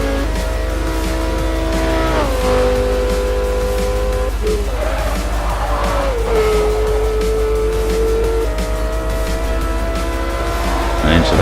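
A Lamborghini Gallardo in Forza 4 races flat out uphill on an Alpine course, its engine droning and shifting pitch as it revs, with brief tire squeals, and a voice talks faintly beneath.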